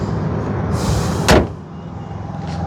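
A Maruti Alto K10 car door shuts with a single firm, close thud over a low steady background rumble.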